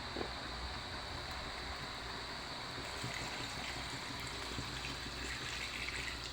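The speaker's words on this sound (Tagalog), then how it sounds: "sabay natin lagyan ng tubig" Water poured into a cooking pot holding chicken pieces for a Filipino chicken soup, a steady broadband gush that runs evenly for several seconds, moderately loud and close, with no talking over it.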